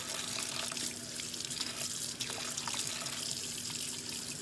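Water runs steadily from a kitchen tap as a knife is rinsed beneath it, making a continuous close splashing rush with no talk.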